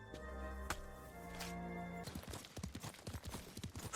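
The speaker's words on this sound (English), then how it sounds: "The sensation of riding your horse through a field of white pampas grass" Horse hooves pounding in a rapid galloping rhythm while riding through a field of white pampas grass in Ghost of Tsushima, starting after a sustained tonal musical drone and continuing as close, loud, repeated thuds to the end.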